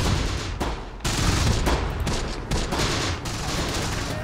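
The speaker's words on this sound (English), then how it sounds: "They are just peppering the area with machine guns." Sustained machine-gun fire from the WWII tactics game Close Combat: The Bloody First, a dense unbroken rattle of overlapping bursts peppering an area, loud and continuous with brief dips.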